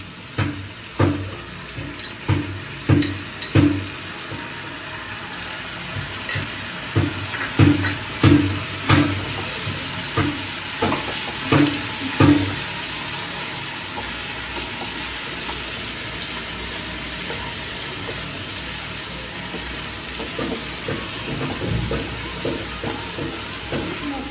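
Ginger garlic paste sizzles in a pan for chicken curry, a steady soft frying hiss under a series of rhythmic scraping and stirring knocks that fade out partway through, leaving only the gentle sizzle.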